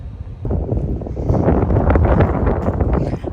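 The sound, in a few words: wind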